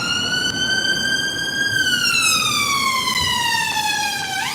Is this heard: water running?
no